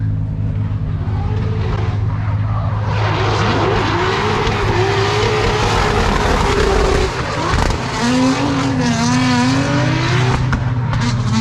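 A Nissan 370Z race car at round 4 of the RDS series in Ryazan: loud, continuous engine roar with rising and falling rev sweeps, and tire squeal and skidding mixed in throughout.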